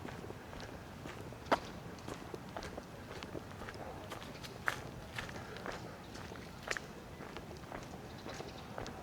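Footsteps walk along a quiet autumn sidewalk on Toronto's Palmerston Avenue, a steady close stride of soft taps with a few sharper heel strikes over faint street ambience.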